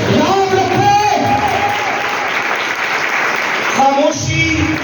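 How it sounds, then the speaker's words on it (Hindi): Church congregation at a Sunday service applauding loudly, with sustained clapping throughout and voices and music-like tones mixed in beneath the applause. "आइए यीशु के लिए जोरदार तालियां बजाइए"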